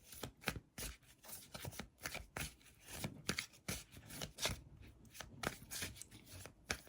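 Tarot cards are shuffled close up in a steady run of soft riffling bursts and papery slaps that repeat every fraction of a second, quiet and alone without speech.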